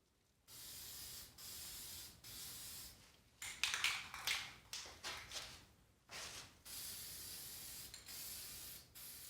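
A BMW E92 M3 muffler is spray painted in several loud, steady hissing bursts of a few seconds each, separated by short pauses, with a faster run of short sputtering sprays in the middle.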